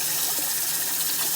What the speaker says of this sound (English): you have to put cold water on it, give them a nice cold bath, empty some of the hot water